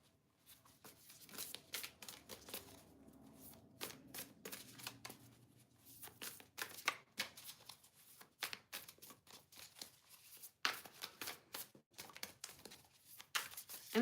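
A deck of cards for a card reading is shuffled steadily for over ten seconds, with crisp riffling and snapping sounds coming close and fairly loud, and no voices.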